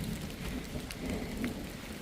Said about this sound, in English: We've got a thunderstorm overhead